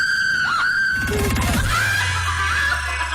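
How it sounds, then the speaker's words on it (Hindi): A woman screams in terror in a Hindi-dubbed horror story, a drawn-out high shriek with shaky wavering pitch, loud and close, over a dense low rumbling score. "वो मदद के लिए चिल्ला रही होती है,"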